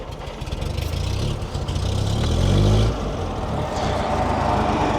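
A car engine cranks and catches, revs briefly, then settles into a rough, uneven running note, close and moderately loud with no talk.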